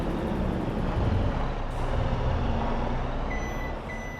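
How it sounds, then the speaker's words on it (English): A truck in Farming Simulator 22 reversing with its beeper sounding, set against a loud engine rumble and hiss; the beeps repeat steadily over the heavy, close vehicle noise. "Truck is so loud."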